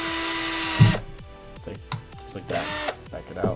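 A power drill bores holes into the plastic shell of a Nintendo NES controller, with two loud whining bursts of the motor and a stretch of quieter grinding between them, while someone talks close by.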